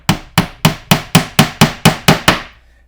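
A ball peen hammer drives an insert into a loose cabinet door hinge hole with nine sharp, evenly spaced metallic taps. The strikes are close and crisp, and nothing else is heard.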